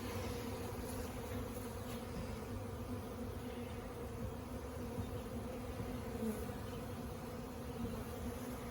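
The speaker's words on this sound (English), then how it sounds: "A good number of bees" Dense, steady buzzing of a honeybee swarm, a continuous low drone filling the background with no break, moderately quiet.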